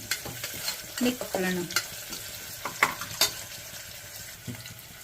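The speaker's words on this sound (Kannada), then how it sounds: "ಸ್ವಲ್ಪ ಈರುಳ್ಳಿ ಗೋಲ್ಡನ್ ಬ್ರೌನ್ ಆಗಲಿ." Chopped onions frying toward golden brown in a pan for vegetable pulao, a soft steady sizzle broken by scraping stirs and a few clinks of the spoon against the pan, with no voices.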